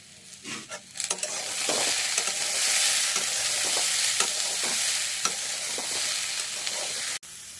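Chopped green garlic fries in a pan with a loud, continuous hiss and sizzle, while a spoon stirs and scrapes through it in repeated strokes, close up and without talk.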